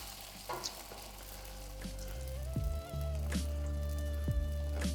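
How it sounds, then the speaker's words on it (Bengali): Sago with a bay leaf frying in ghee while being stirred, a soft sizzle with scraping stirs and a few knocks of the spoon against the pan, fairly quiet and close. "যেটাকে আমি হালকা একটু ঘিয়ের মধ্যে নেড়ে চেড়ে ভালো করে মিশিয়ে নেব"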